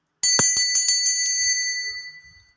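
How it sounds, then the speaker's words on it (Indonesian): A small bell is struck to open a tarot reading, a bright metallic ring repeated in a quick flurry of strikes that then fades out. It is clear and close with no voices. "kita akan memulai dengan ditandai lonceng berbunyi."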